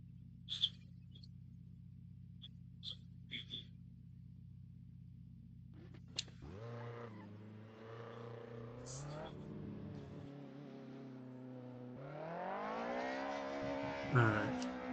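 Race car engine in the Assetto Corsa sim on the Nordschleife, a steady low drone that shifts pitch and rises into revving, with a few faint clicks early on and no talking.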